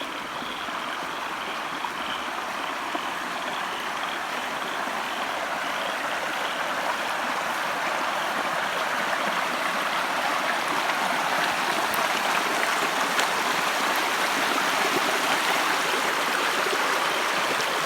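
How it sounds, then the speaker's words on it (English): Water spilling over the overflow of a garden pond like a small waterfall, a steady broadband rush heard close by, continuous and unbroken with no talk. "It's the overflow from our pond, which is just the other side of this grass."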